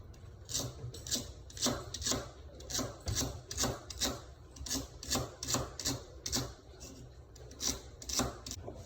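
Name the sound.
knife slicing celery into thin slices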